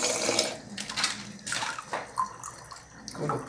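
Water running from a kitchen tap into a pot for cooking beans, splashing in uneven bursts that surge and fade several times, close by with no talking.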